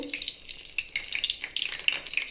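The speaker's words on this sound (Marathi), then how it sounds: "आता आपण त्यात वांगे सोडू" Pieces of eggplant going into hot oil in a kadhai, giving a bright crackling sizzle that comes in several bursts, each flaring and then settling, up close with no voices.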